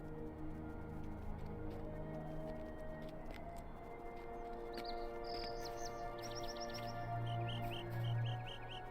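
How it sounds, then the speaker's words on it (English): In the Hobbiton area of the online game The Lord of the Rings Online, a bird chirps in short, quick, repeated runs above a faint, steady ambient music bed with no talking. "A bird."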